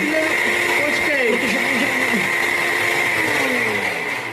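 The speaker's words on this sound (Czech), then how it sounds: "Protože ti jede mixér." A kitchen blender runs without a break on the other end of a phone call, giving a steady, loud, whirring drone under people talking.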